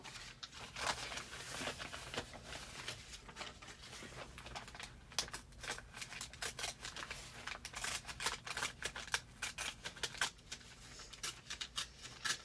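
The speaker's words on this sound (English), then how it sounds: "With all the tearing I'm doing, you don't even barely need scissors." Junk mail paper torn by hand, a dense run of crisp rips and crinkling rustles, close and fairly quiet, continuing without talk.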